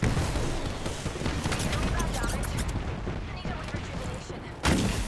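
A grenade blast and gunfire in the Apex Legends battle royale game: a dense, continuous barrage of booms and crackling shots fills the clip, with another sharp burst near the end.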